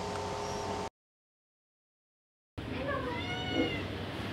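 A cat cries loudly just after being neutered, with repeated drawn-out meows coming close to the microphone, broken by a stretch of silence before the crying resumes.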